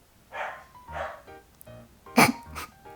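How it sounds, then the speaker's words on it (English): Pet dogs barking in a room, a handful of short muffled woofs spaced irregularly over a few seconds, with one louder sharper bark near the end. "I think I have to ask our dogs to be quiet."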